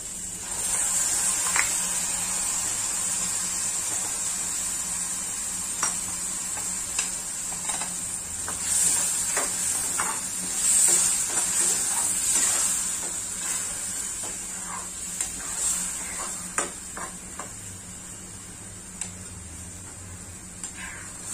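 Ready-made masala for a semi-gravy vattana (dried pea) dish goes into a pan and is stirred, a steady sizzling hiss running throughout with scattered light scraping taps from the spoon, close and continuous without talk.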